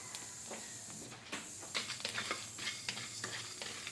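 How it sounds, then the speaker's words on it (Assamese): Ingredients for an Assamese-style chicken curry fry in hot oil in a wok, giving a steady close sizzle broken by clustered scraping stir strokes in the second half. "এতিয়া মই এইখিনি প্ৰথম ফ্ৰাই কৰি ল'ম"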